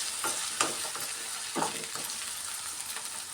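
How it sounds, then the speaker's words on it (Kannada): Two chopped onions frying in a pan for a village-style lentil and egg sambar, a steady broad sizzle with a few brief stirring scrapes, close and fairly quiet, no talk. "ಈ ಥರ ಚೆನ್ನಾಗಿ ಫ್ರೈ ಮಾಡ್ಕೊಳ್ಳೋಣ ಕೆಂಪಗೆ."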